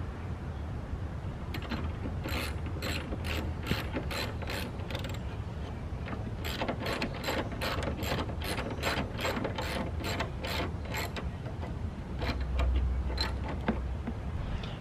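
A ratchet wrench clicks in rapid bursts of repeated strokes while bolting down the hardtop on a Honda S2000, close and fairly loud with short pauses between runs, and no one speaks.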